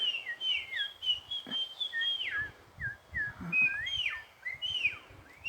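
A run of thin, high whistled notes, short slurred chirps and rising and falling sweeps, repeats steadily, sounding like a Smith's Longspur calling nearby over faint low background rumble.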